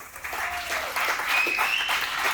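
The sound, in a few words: audience applause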